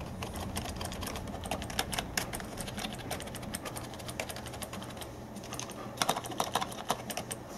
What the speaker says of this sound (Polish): Klawiatura jest po prostu cicha jak szept